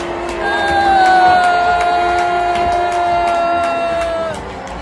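A large crowd at an event booing Mr. Carney, a loud, sustained mass of voices that swells in the first second, holds steady, then eases off toward the end, with a long sliding drone running underneath.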